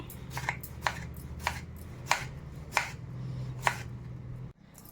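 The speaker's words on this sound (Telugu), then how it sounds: "అలాగే ఉల్లిపాయ కూడా చాలా నైస్గా కట్ చేసుకోవాలి" Onions being chopped finely with a knife on a board, six sharp, evenly spaced cuts over a low steady hum, close and clear, ending in a sudden drop to quiet.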